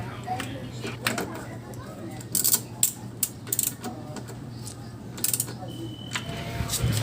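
Quick ratcheting clicks come in short bursts as a socket wrench tightens the rear fender bolts on a Honda Click scooter, fairly faint over a low steady hum while a voice speaks.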